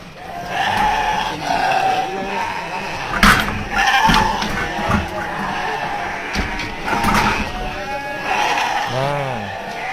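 Garut and local sheep bleat on a farm, with several wavering calls, one close and clear near the end, over a noisy outdoor background with people talking.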